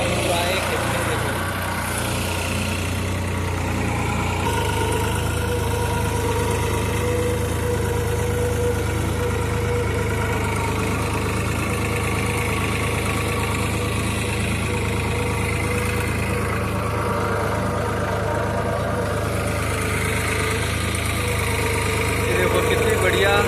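A New Holland 3600-2 tractor engine drones steadily while ploughing a field, a continuous mid-pitched hum with a low throb running throughout at a constant load, with faint voices in the background.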